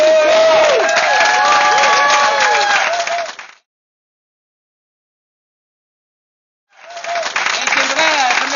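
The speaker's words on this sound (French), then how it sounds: "Laissez, applaudissez-le tout simplement." Lively applause and cheering from the audience at a golf tournament prize ceremony, the Mont Ham Open 2014, loud and dense; it cuts to silence midway, then resumes with clapping and voices.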